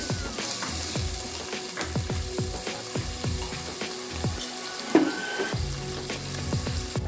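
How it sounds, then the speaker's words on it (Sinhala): Cinnamon bark, pandan, curry leaves and lemongrass frying in oil in a pan, a continuous close sizzle with rapid ticking crackles and a few clinks of the spoon stirring, no voices. "හොඳින් කලවම් කරගෙන මේ ටික ටිකක් බැදෙන්න දෙන්න."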